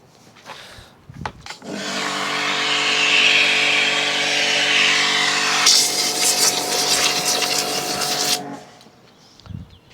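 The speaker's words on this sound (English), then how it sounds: "if you turn your pressure washer on" A pressure washer motor starts up and runs loudly and steadily for several seconds with a constant hum, joined by a hissing spray partway through, then cuts off abruptly, used while detailing a car.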